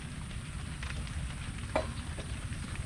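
Mashed sweet potato being stirred with melting margarine for a cake makes soft, steady scraping and gentle sizzling, with one brief louder knock partway through.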